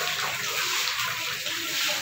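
High-tide seawater runs into a house, a steady hissing flow of water with no clear talk.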